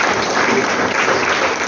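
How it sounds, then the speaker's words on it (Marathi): Audience applause at a Marathi poetry book launch ceremony during a felicitation; loud, continuous clapping from a close crowd, dense and even throughout. "सगळ्यात टाळ्या वाजवा."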